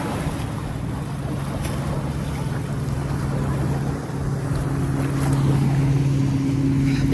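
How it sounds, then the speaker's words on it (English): Steady ocean breeze and low surf roar by the water near San Pedro, with a constant low engine-like hum from passing boats, continuous and moderately loud throughout, no talking. "The little ocean breeze"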